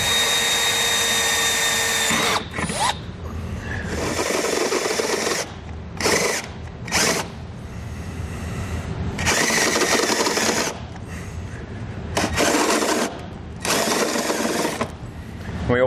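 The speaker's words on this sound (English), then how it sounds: "I'm going to start by drilling a pilot hole, and then I'm going to use a step bit to open my hole up to the correct size." A drill bores a pilot hole and then a step bit widens it in the steel frame rail of a 2012 Volkswagen during a Curt trailer hitch installation, coming as loud, close whirring bursts of grinding metal separated by brief pauses.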